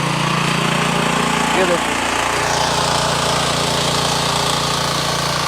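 A 4x4 mini power tiller tractor engine runs loud and steady while ploughing a field, with a continuous droning rumble close by and someone speaking briefly over it.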